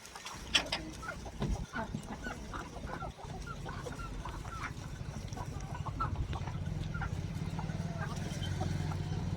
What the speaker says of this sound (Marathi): नाही ही कोंबडी आहे का पट्टीडी आहे ती